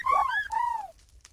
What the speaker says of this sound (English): Nice birds.